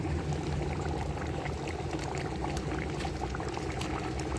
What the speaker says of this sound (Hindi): ये मैं इसके अंदर पानी डाल देने लगी।